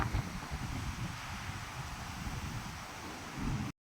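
Strong wind gusting through trees and rustling leaves, heard from someone sheltering beneath a tree, with low buffeting rumble against the microphone and a steady hiss, fairly quiet overall and without voices.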